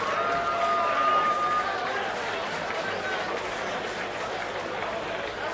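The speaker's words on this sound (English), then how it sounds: "big round of applause for both gladiators in the cage here" Crowd roar and applause for two fighters after a Cage Rage 6 cage bout: a continuous broad wash of clapping and hubbub from a large audience, steady and fairly distant, with a brief tonal whistle early on.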